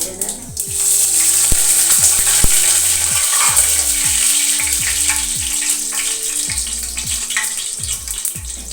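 Loud, busy sizzling and crackling of cumin seeds and curry leaves frying in hot oil, continuous throughout with occasional stirring scrapes.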